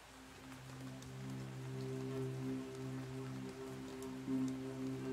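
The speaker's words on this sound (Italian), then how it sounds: "È forse questo il segreto della pioggia." Soft, steady patter of rain falling on a surface, a gentle continuous hiss under low sustained background tones, calm and without any talking, as backing for a guided meditation.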